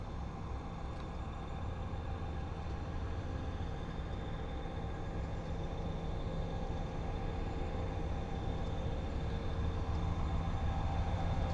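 A diesel freight locomotive in Train Simulator 2017, an EMD SD75, rumbling along steadily with a continuous low drone and rolling rail noise, unchanging throughout.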